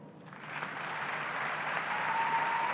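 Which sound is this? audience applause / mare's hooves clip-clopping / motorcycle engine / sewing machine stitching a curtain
audience applause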